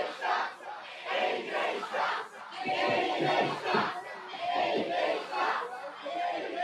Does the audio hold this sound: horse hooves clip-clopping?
no